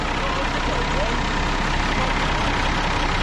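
A loud, steady tractor diesel engine running continuously, a low rumbling drone with no pauses.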